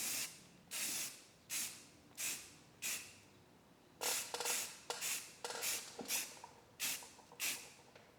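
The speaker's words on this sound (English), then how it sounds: "Yeah, I'm definitely making a mess out of this with the overspray." Spray can laying primer onto a car body during a rust repair: short hissing bursts at a steady pace, close and loud, then a quicker cluster of shorter sprays, with no voices.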